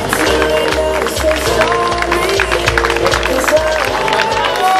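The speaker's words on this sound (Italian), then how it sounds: "il nostro calorosissimo applauso per questa seconda piazza" Crowd applauding in a town square as a runner arrives at the Cardacrucca 2019 race: loud continuous clapping and cheering, with an announcer's voice over it and rhythmic thumping beneath.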